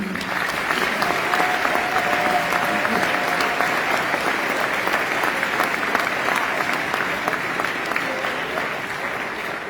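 A concert audience at an all-city high school honor concert applauds steadily for an absent music teacher, with even, continuous clapping at moderate loudness across the whole stretch and no pause.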